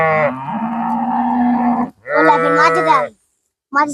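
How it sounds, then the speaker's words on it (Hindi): A cow moos loudly and nearby, two long drawn-out calls with a brief pause between, beside a large flock of sheep and goats out in open grazing land. "साथ में 2 गाय भी हैं।"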